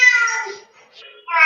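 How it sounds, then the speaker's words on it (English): Close and loud, a cat meows twice in drawn-out, tonal cries, the first long and the second starting just at the end after a short quiet gap. "y'all hear the cats in the background getting ate up."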